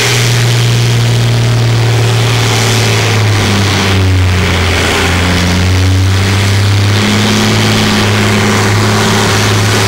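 A pulling tractor at a 6-ton standard class tractor-pulling event accelerates hard, its engine roaring loud and close with a sustained throbbing drone that rises and shifts pitch across the full ten seconds.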